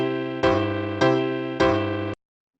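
Three sustained piano chords alternating root position and second inversion, struck one after another at an even pace, each ringing fully before the next, ending in silence.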